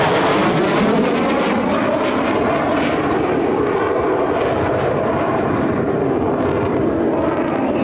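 US Navy Blue Angels jets flying at the NAS Patuxent River air show, giving a loud, continuous roaring engine rush that stays steady and close throughout.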